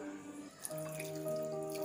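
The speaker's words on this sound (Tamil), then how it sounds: "கொஞ்சமாக தண்ணி ஊற்றி ஊற வச்சிருவோம்" Water trickles and drips as a small amount is poured into a bowl of tamarind and jaggery set to soak for pani puri, with faint ringing tones and steady close-up splashing, no talking.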